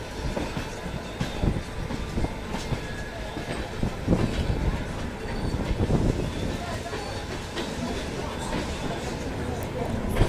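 The 12786 Mysore-Kacheguda Express stands at a platform at KSR Bengaluru station, giving off a constant rumbling, clanking din with scattered metallic knocks, layered with a loud murmur of station crowd noise.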